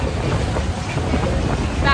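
Steady wind roars and buffets the microphone on a boat ride on the water off Manuel Antonio, Costa Rica, a constant close rumble with no talking.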